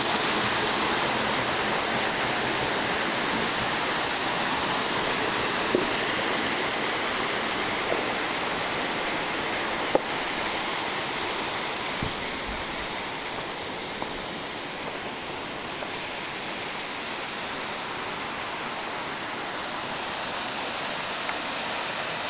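Lost Creek Falls pours steadily into a sandy pool, a broad, continuous rush of falling water heard up close with no break.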